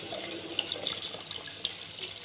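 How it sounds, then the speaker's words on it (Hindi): Lukewarm boiled milk, about half a kilo, pours into a pot for suji halwa with a steady, soft liquid gush and small splashes, a close and continuous trickle with no talking. "तो मैं इसके अंदर दूध ऐड करूंगी।"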